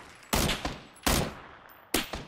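Three heavy sniper rifle shots in the video game PUBG boom out about a second apart, each a loud, broad blast that rings off briefly into a short echoing tail.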